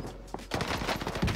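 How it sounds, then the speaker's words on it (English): Gunfire in a first-person shooter, with a rapid burst of shots that turns into sustained automatic fire, loud and close across most of the short span. "Why is he shooting the other way?"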